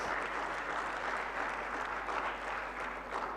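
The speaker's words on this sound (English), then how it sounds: "A big round of applause." A conference audience gives a big round of applause after lunch at a panel discussion on opportunities for firms to grow, a continuous wash of many hands clapping at a steady, moderate level.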